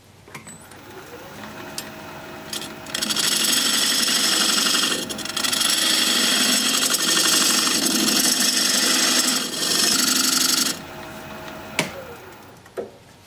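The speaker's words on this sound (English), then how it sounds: "I'm going to use a diamond point tool to square up the sides of my tenon." Wood lathe turning a driftwood bean pot, a diamond point tool squaring the sides of a tenon: a steady, loud scraping whir of the cutting runs for about eight seconds, with a quieter motor hum before and after.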